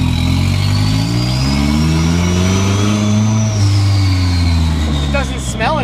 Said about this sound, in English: we about to take it for a test drive